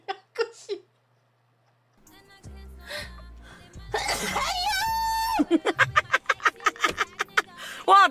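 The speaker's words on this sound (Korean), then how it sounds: "아니, 이렇게 여리여리한데 어떻게 재채기 소리가 저래?" A loud, explosive sneeze from a slight, delicate-looking person bursts out amid laughter and excited chatter, followed by rapid bursts of laughter.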